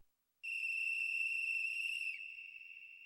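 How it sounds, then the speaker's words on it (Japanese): A single distant whistle holding one thin, steady, high tone for about two seconds before fading, faint and alone in an otherwise quiet setting. "あの笛は"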